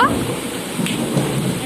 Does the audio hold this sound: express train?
no